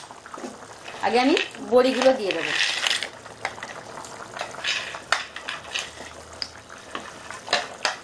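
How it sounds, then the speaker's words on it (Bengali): A pot of Bengali rui fish curry with potato and bori bubbles at a rolling boil, soft gurgles and popping bubbles close by, with someone speaking over much of it. "1 মিনিট হয়ে গেছে আর আমার তরকারিটাও ফুটে উঠেছে"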